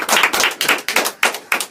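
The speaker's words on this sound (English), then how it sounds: "even the claps come in late" Studio audience clapping in loose unison, six broad sharp bursts in a steady rhythm with a slight lag, close and lively.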